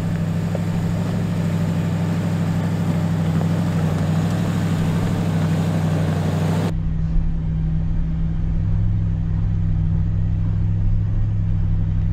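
A Ram TRX truck's Hellcat engine rumbles low and steady while crawling off-road at slow speed, a deep continuous drone with no voices and little change in pitch.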